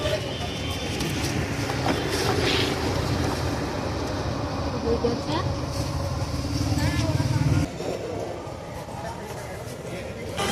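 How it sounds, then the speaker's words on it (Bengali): Busy, loud ambience at Howrah railway station with a low rumbling train and a constant crowd murmur, and people talking nearby. "চলে আসলাম হাওড়া স্টেশন।"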